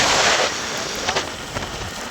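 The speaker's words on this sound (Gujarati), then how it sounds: "વરસાદ કેવો પડ્યો." Steady rain falls outdoors at a railway station, a broad continuous hiss with light wind, close and fairly loud, with a few brief louder spatters.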